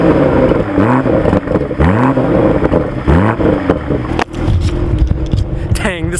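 A Toyota Supra revs after a cold start, its engine rising and falling in several sweeping pulls up close, with a voice talking over parts of it.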